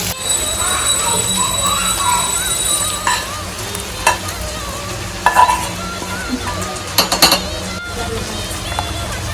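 Fried onion tempering is stirred into tamarind juice for ullipaya pulusu: a loud, continuous sizzle and bubbling with a few clattering stir strokes near the end.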